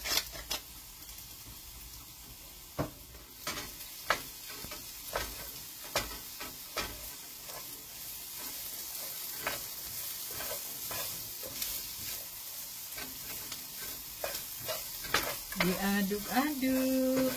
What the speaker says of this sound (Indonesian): Diaduk-aduk supaya semua bumbu-bumbunya tercampur dengan rata ya teman-teman.